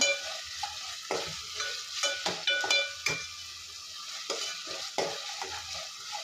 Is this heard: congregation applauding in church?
no